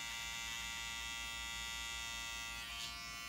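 An electric hair clipper cutting a tapered outline for an Ivy League hairstyle gives a steady, close, buzzing motor drone that runs unbroken throughout, with a slight shift in tone near the end.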